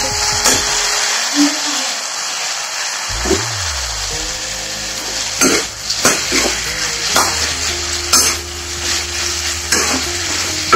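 Mint leaves fry in hot oil with cumin and coriander, a steady close sizzle broken by repeated stirring and scraping clatters from a spoon in the pan.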